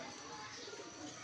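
A pigeon coos softly and steadily over a low, continuous background hum, its murmuring call close but faint.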